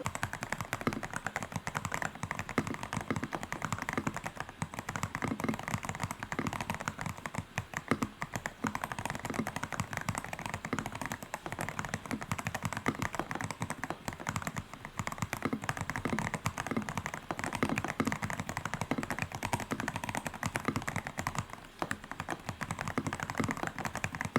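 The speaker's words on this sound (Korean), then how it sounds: "가장 궁금해하실 만한 타건음을 들어보도록 하겠습니다" Rapid, continuous clacking of a mechanical keyboard with HAIMU Ice Silver linear switches typed on up close, a dense stream of crisp key presses with no talking.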